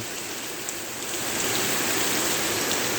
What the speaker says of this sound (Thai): ฝนตกเต็มนะครับ